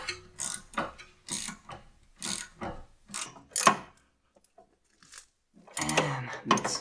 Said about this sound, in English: you need 5mm this guy and 17mm wrench to get the nut on it